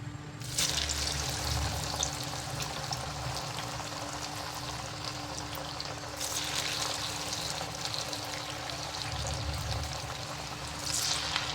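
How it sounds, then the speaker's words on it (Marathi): Crisp cabbage vadi frying in hot oil gives off a steady, even sizzling hiss throughout, with no voices. "आता वडी तळून घ्यायची"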